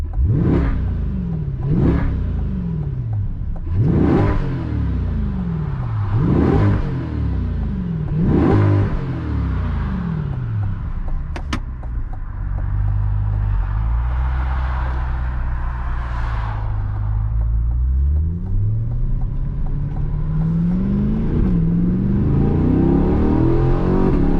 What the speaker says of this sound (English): I want you guys to hear this exhaust.